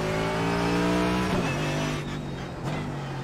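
Mercedes GT3 race car in the iRacing sim running at IMSA Nürburgring, a steady engine drone with sharp gear-change dips, then settling to a sustained tone, no talk.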